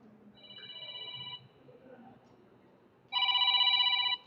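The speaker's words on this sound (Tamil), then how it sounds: "இது வந்து கால் வருது சரியா" A smartphone rings with an incoming call, two bursts of electronic ringtone separated by a quiet gap, the second louder and close, with faint background murmur.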